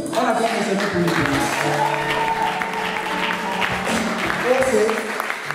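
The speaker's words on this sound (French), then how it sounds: "On acclame le Seigneur pour lui." A church congregation applauds in praise of the Lord during a large celebration service, steady clapping sustained for several seconds with a voice and crowd murmur running underneath.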